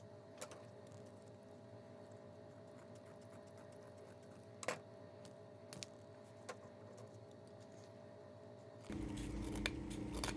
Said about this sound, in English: You can use scissors to help you out or snips